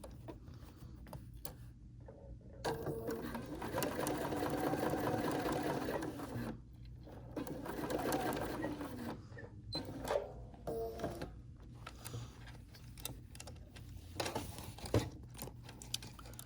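A Bernina sewing machine stitches a seam in several sustained bursts of rapid mechanical whirring, separated by short pauses and light handling clicks.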